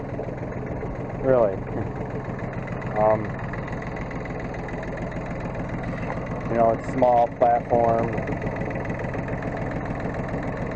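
A tractor engine idles with a steady low chugging drone throughout, while someone talks intermittently over it.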